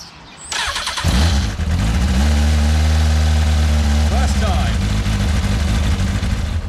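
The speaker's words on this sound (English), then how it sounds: "let's start the bike up." A motorbike engine cranks and fires up, then settles into a loud, close, steady idle with a deep throbbing hum. A voice is briefly audible over it.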